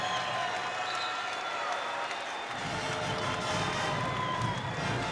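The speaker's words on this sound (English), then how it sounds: "the Hokie crowd loving what they're seeing out of their sophomore guard" Crowd at a Virginia Tech women's basketball game against Rutgers cheers and applauds through an arena, a broad steady roar that swells partway through, with a commentator's voice faintly underneath.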